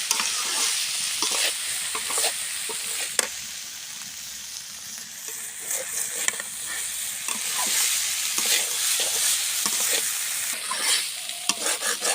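Malabar spinach stems stir-fry in a pan with a continuous bright sizzle, broken by repeated scraping and clattering strokes of a spatula, close and moderately loud, with no voices.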